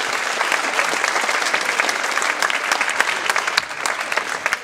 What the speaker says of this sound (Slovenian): Dajte si en aplavz.